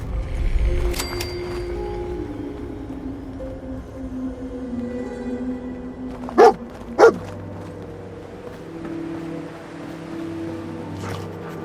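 Dogmeat, the dog companion in Fallout 4, gives two sharp barks in quick succession midway through, set against a low game ambience of droning tones and distant rumble.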